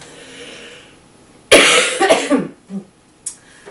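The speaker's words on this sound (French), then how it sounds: "je vais tousser" A sudden loud cough bursts out close by, followed by a few smaller hacking coughs and throat sounds trailing off, over a quiet room.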